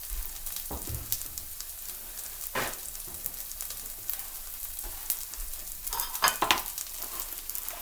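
Steady crackling sizzle of tater tots frying in hot oil, with occasional louder pops and clatters, close up and without talk.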